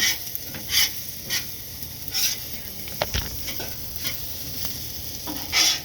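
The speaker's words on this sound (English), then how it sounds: "Rice and the egg mixing up now." Rice and egg stir-fry together on a home hibachi griddle, with a constant sizzle cut by bright metallic spatula scrapes and taps, several quick clanks close by and no talking.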